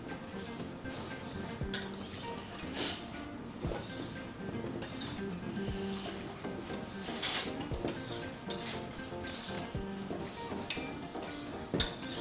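Whisk scraping and stirring through chocolate mousse mixture in a bowl, a steady run of soft metallic clinks and rubbing strokes, close and continuous without talk.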